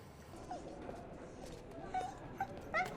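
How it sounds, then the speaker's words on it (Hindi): A dog whimpering and giving a few short high yips, soft and somewhat distant, brought into a hospital emergency area, with faint background murmur. "सर आप एक कुत्ता अंदर लेके नहीं आ सकते, आप प्लीज बाहर जाइए।"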